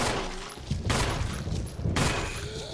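Two loud, booming gunshots fired at a zombie in Resident Evil HD, spaced about a second apart, each with a heavy echoing tail over a dense background.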